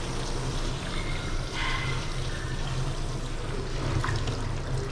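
Warm water pours and trickles steadily while a Bengal cat is bathed in a tub, a continuous close splashing wash with no talk.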